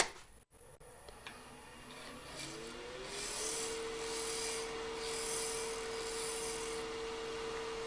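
A turning tool cuts a wooden sphere spinning on a lathe, giving a continuous rasping, scraping hiss over a steady motor hum that builds after a brief pause and holds level.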